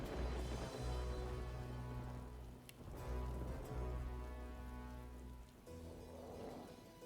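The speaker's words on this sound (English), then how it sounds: "Make it rain." Rain conjured by a spell in the fantasy role-playing game Divinity: Original Sin 2, a steady hiss of rainfall pattering on surfaces, continuous and fairly loud throughout, with a low droning game ambience underneath.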